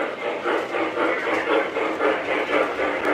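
An MTH/Lionel NS OCS model train set running on track, a continuous mid-range rumble with a regular rhythmic clicking from the wheels at the rail joints, close and fairly loud with no talking.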